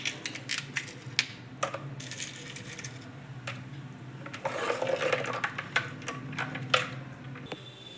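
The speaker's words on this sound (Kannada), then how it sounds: "ice cubes," Ice cubes tumble into a mixer jar: a close, irregular run of sharp clinks, knocks and rattles scattered over several seconds, with no one speaking.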